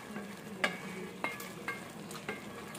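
Eggplant with shrimp paste fries in a pan, a soft steady sizzle broken by four or five distinct scraping clacks of a utensil stirring, close and fairly quiet.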